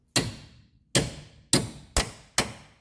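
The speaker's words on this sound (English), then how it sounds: "get a nice big hammer, like so, and just smash it back into place" A big hammer drives a bearing race into the wheel spindle of a 2003 Toyota Corolla with five sharp, ringing metal strikes, close and loud, spaced about half a second apart.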